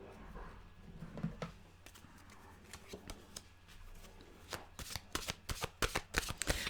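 Tarot cards being shuffled by hand, a quiet riffling and slapping that grows into crisp, repeated card snaps and taps toward the end, close and fairly soft.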